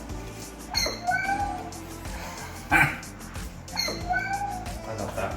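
BeOS computer alert sounds: a synthesized cat-like meow with a warbling, falling tone plays twice, separated by a short burst, fairly quiet and clear with no talking.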